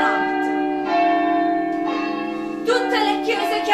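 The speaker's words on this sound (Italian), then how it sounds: "un suono di campane," Church bells ring out in festive celebration, rich sustained tolls with overlapping strikes that grow busier as more bells join.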